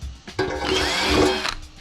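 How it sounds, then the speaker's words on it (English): A power drill whines steadily into a metal oil pan baffle for rivet holes for just over a second, close and loud, then spins down. "Now I'm drilling"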